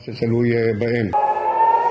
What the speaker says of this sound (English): as you can hear, the sirens are going off here in Tel Aviv